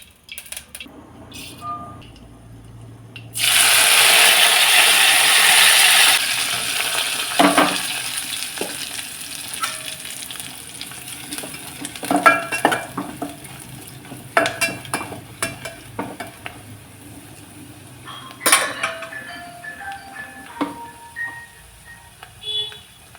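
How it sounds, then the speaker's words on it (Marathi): Spices and vegetables hit hot oil with a loud burst of sizzling that settles into a quieter fry, broken by stirring clinks and scrapes. "पटकन भाजी फोडणी टाकते"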